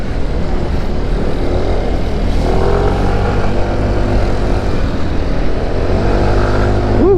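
A New Freego Connected 2023 scooter accelerates steadily, its engine drone loud and continuous from close by with a slightly rising pitch toward the end, and no talking over it.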